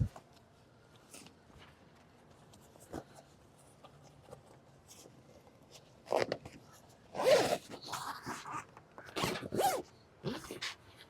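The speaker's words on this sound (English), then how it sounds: "As far as the zippers, they're a little tricky when you go around the corner." A zipper on the carry bag of a Traeger Trailhead portable wood pellet grill is pulled in short rasping runs, faint at first, then several louder, closer zips in quick succession.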